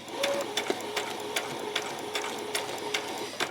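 A sewing machine on a normal straight stitch sews a ruffle onto a skirt, running slowly and close by with a steady, even rhythm of regular stitch clicks.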